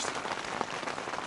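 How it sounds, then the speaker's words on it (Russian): Heavy rain drums steadily on a large camping tent, a dense, continuous patter close overhead with no voices. "Просто дождь херачит."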